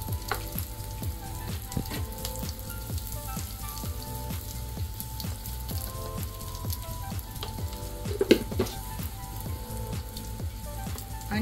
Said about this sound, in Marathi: आता यामध्ये मी 2 चमचे शेंगदाणे टाकलेत, ते पण छान भाजून घ्यायचे।